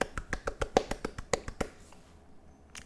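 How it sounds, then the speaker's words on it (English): A short run of about a dozen light, sharp claps in quick rhythm, close and fairly soft, tapering off into near silence. "Golf claps around for everyone."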